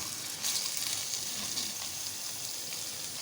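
Mutton sizzles and fries in a pan with finely chopped onions stirred in, a loud, continuous, close crackle and hiss throughout.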